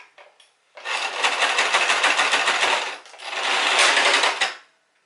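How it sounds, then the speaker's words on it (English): A sewing machine runs in two bursts of rapid, rattling stitching, each lasting a couple of seconds with a brief stop between, loud and close. "I just broke the needle of the sewing machine"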